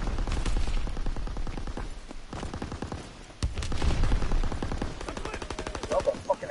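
Machine gun turret in a WW2 war game fires long, rapid bursts of automatic gunfire, loud and close, with a short pause midway before firing resumes.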